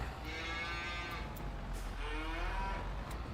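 Cattle moo in a farming video game, two drawn-out lowing calls a couple of seconds apart, moderately distant over a low constant rumble and occasional faint clicks.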